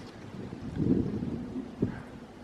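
Wind blows outdoors along a walking path, a faint, low rumble buffeting the microphone. It swells in a couple of brief gusts, with no talking.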